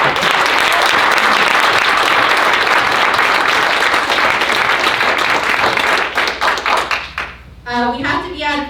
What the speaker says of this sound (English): let us give a round of applause for our